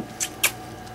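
A cat gives two short, high meows about a quarter second apart, close by in a quiet room, meant to sound like the word milk.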